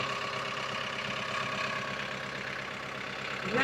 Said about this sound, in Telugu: ఇంజన్ సౌండే వెరైటీ వస్తుంది.